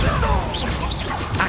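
A Bombarda blasting spell strikes in Hogwarts Legacy with a loud, close crashing impact and swishing debris, spread over a second and a half.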